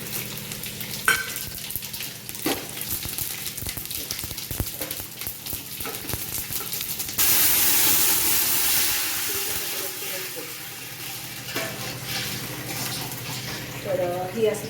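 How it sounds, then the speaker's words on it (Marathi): Whole spices such as cumin, shahjeera and cloves tempered into water in a pot, a steady close sizzle and hiss that swells partway through, with faint clinks of utensils. "तर ही असं पाण्याला फोडणी दिलेली आहे"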